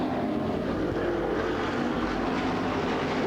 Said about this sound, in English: Whitmire's engine does not sound good.